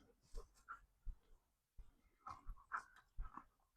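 A quiet dog breathes and pants close by in short bursts, with a few soft whimpers between the breaths and pauses of near silence.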